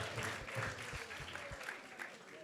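Audience applause at a devotional gathering, a brief burst of soft, distant clapping blended into a hissy room wash, fairly faint throughout.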